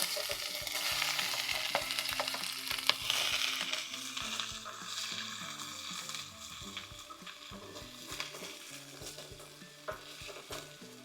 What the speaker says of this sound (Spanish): ya tengo el sartén con bastantito aceite y hay que echarla a que se fría